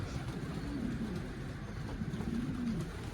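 Young pigeons or doves in a backyard coop coo in low, soft rising calls, a couple of clear coos over a steady ambient hum, with no talking.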